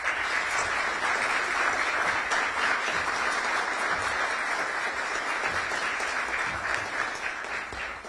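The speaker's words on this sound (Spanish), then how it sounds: "nuestro aplauso para él." Sustained, even applause from the audience at a 2017 state sports award ceremony, a dense wash of many hands clapping continuously for several seconds without pause.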